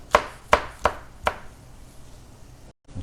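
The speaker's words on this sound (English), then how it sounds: "So we're just gonna kind of cut it" Four sharp knife chops through empanada filling on a board, spaced about a third of a second apart, close and crisp, followed by quiet.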